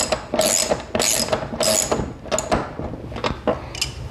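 A washer and lock nut being tightened onto a wheel axle with a ratcheting tool, giving repeated close, sharp metallic clicking bursts in an uneven rhythm.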